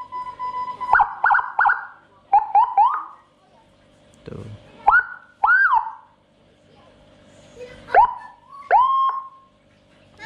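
Whelen Euro 60-watt siren module for a motorcycle at full volume, sounding loud, short wailing and yelping bursts in separate groups with pauses between, while people talk nearby.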